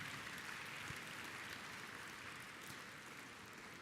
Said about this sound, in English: So a round of applause for your Hofstra University cheer team.